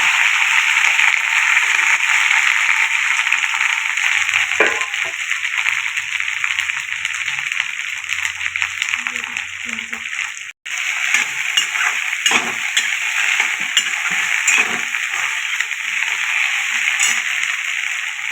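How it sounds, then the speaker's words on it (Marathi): Okra hits hot oil already tempered with mustard seeds, cumin and curry leaves, setting off a loud, steady sizzle close up, with a brief break midway and occasional scraping stirs. "आता भेंडी टाकून घेऊया"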